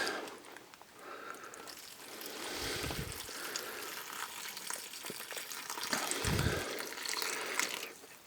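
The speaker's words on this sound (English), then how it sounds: "we will prep our Mountain House food. We've done this before. Just got to pour the water in." Water poured into a Mountain House freeze-dried food pouch, a steady soft trickling and gushing stream lasting several seconds, fairly close and quiet, with a couple of low thumps.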